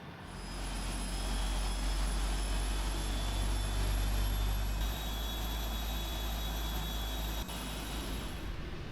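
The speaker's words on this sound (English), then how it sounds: "we're going to start with engine number 4" Engine number 4 of a PMDG 747-8F freighter spooling up in a flight simulator, a loud sustained jet roar with a deep low rumble and steady high whine, no talk.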